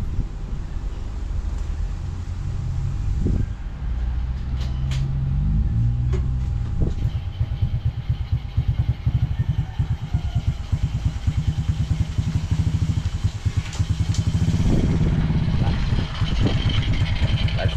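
A motorcycle is wheeled out before a pig slaughter, its engine running in a rough, steady idle with clattering, close to the microphone, and brief sounds of movement around it.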